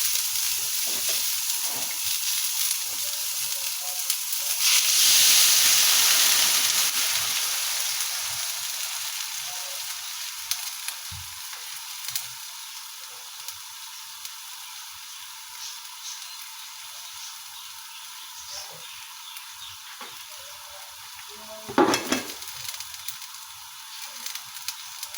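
Dried fish (tuyo) fries in a pan, a dense close sizzling hiss that swells early and then settles, broken by scattered scraping stir clicks and one sharp clatter near the end.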